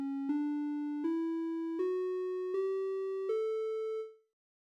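A microtonal submixolydian mode 1 scale played as five steady, pure synthetic tones, each stepping slightly higher than the last at an even pace before cutting off.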